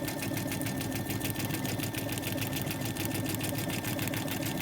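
A Brother Dreamweaver XE embroidery machine stitching out letters, running with a fast steady mechanical rattle of needle strokes, close and continuous without pause.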